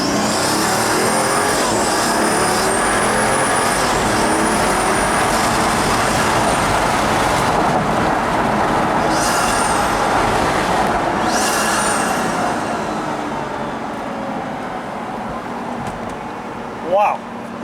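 A Pagani Huayra Project Vulcan supercar roars along at speed, its loud engine note steady with high whining overtones before easing off near the end.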